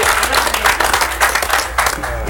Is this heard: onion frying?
no